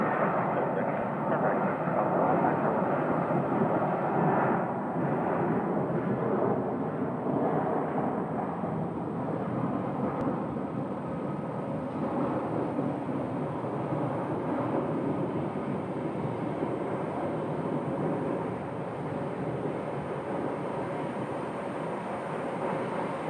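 Southwest airliner taking off from Phoenix Sky Harbor, a steady broad jet roar that holds loud and constant throughout, with no talk over it.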